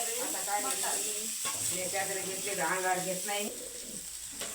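Mutton stir-fried in a pan until slightly charred, giving a steady sizzle with scraping stirs throughout, under a person talking.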